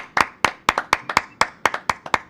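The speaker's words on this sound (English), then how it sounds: "A real live hand clap." A string of ten sharp live hand claps, close and loud, in a slightly uneven rhythm with a brief decay after each, in a talk-show studio setting.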